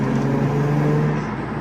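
A car drives along just after a clutch install in a driveway. Its engine gives a steady, close drone mixed with road noise, with no talk.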